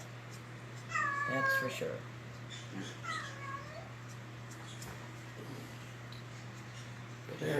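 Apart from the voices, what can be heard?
cat meowing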